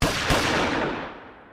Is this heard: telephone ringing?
no